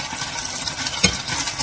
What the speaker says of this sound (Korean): 약간 튀기듯이 그렇게 익힐 거예요.